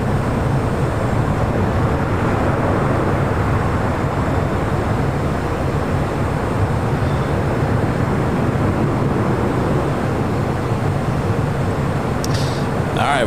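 An American airliner takes off from runway 25 right at LAX, a loud, steady, broad jet roar that holds without a break from start to finish.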